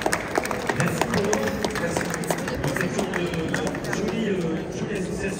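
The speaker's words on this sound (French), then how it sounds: "J'aimerais qu'on applaudisse chaleureusement Olivier Derek, s'il vous plaît." An audience claps warmly at a food festival cooking demonstration, a dense, steady wash of applause with scattered sharp claps and crowd noise lasting several seconds at even loudness.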